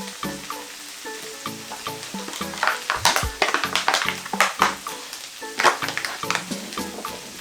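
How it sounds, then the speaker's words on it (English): Minced beef sizzles and crackles in a hot pan, with sharp bursts of spitting fat and occasional scraping as it is stirred. "As it is frying, we will add our minced meat."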